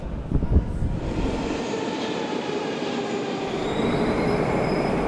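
A Moscow subway train rumbles steadily close by, wheels grinding and squealing on the rails as it rolls in, a continuous loud roar with a metallic whine on top.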